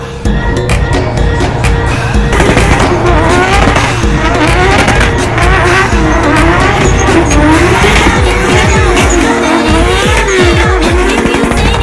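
Remote-control cars drifting at a car show, a loud continuous buzz of small revving motors with repeated tire squeals and skids, busy crowd ambience beneath.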